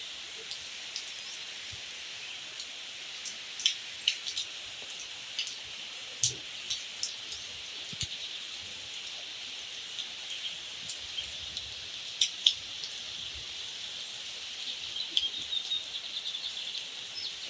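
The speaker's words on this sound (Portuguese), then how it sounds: "tá chovendo agora aqui no sertão do Piauí." Light, fine rain falls in the rural backlands of Piauí, a quiet steady hiss with scattered close drips and taps and occasional faint bird chirps.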